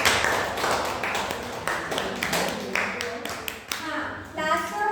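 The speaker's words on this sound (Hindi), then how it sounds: "चलो इनके लिए तालियां बजा दो।" Students in a science class clap together in a burst of scattered, quick claps that continue for a few seconds before fading out.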